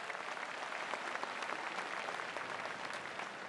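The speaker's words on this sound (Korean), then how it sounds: "박수 같이 한번 보내주시죠" A large crowd applauds at the opening ceremony of the 103rd National Sports Festival in Ulsan, a dense, even wash of clapping that stays steady and full for the whole stretch with no voices standing out.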